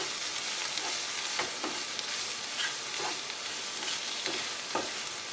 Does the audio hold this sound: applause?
no